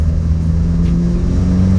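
A 440 bhp turbocharged Honda Civic EP3 Type R, built up from a bare shell, drones loudly and steadily under load while driving, its engine note sustained without a break.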